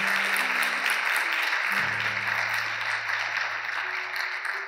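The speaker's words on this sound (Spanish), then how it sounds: "Le damos un aplauso al Señor." Church congregation applause during a Spanish-language service, steady sustained clapping throughout, with a low sustained tone beneath it.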